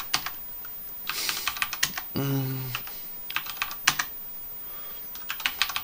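Typing on a computer keyboard while entering players' money figures for a CS:GO economy example: scattered bursts of close key clicks with short pauses, and a brief tonal electronic sound partway through.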